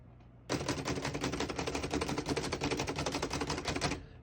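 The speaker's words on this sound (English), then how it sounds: "We're going to keep it on single and finish typing." A 1937 Remington Noiseless Model 7 portable typewriter is typed on in a rapid, continuous run of muffled keystrokes that starts abruptly after a brief pause and stops near the end, close and with no talk.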